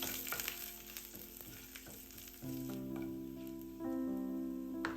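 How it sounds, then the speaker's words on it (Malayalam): Mustard seeds, curry leaves, dried chillies and shallots fry in hot coconut oil for mango pulissery, a loud crackling sizzle with sharp pops, later joined by a steady tonal hum that sits over the hiss. "വെളിച്ചെണ്ണ ചൂടാക്കി അല്പം കടുകും കറിവേപ്പിലയും വറ്റൽമുളകും ചെറിയുള്ളിയും കൂടെ ഇട്ട് കൊടുത്തിട്ട് ഒന്ന് മൂപ്പിച്ചെടുക്കാം."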